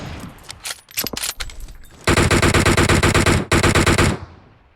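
A teammate in PUBG Mobile opens up with scattered shots that turn into long, loud, rapid automatic bursts, the firing cutting off briefly and then resuming before it stops.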